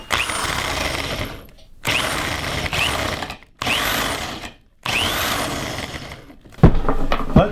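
A power drill bores a 3/4-inch hole with a 3/4-inch bit into wood for a tiny house Dutch door, loud and close in four separate bursts, each spinning up and cutting before stopping, followed by clattering handling noise.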